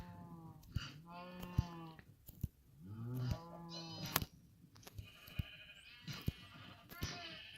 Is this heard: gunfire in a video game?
no